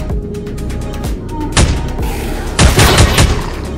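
Bursts of gunfire from the survival game Heat Guardian, with two loud volleys standing out over a steady dense rumble of rapid shots in a tense firefight.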